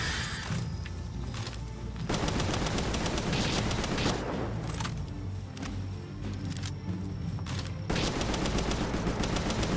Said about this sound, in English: I am shooting them with my gun.